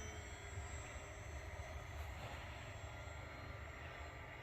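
A radio-controlled Avanti S 80mm electric ducted fan jet flies past, its steady broadband whine and rush holding loud and continuous at moderate throttle.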